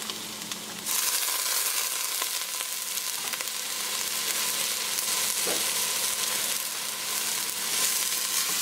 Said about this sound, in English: And we're just going to quickly stir fry that for a couple minutes.